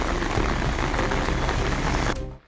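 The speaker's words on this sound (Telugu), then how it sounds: "3 గంటల పాటు కుండపోత వాన కురిసింది." Heavy downpour in Telangana, a dense, loud steady roar of rain pouring continuously before cutting off abruptly near the end.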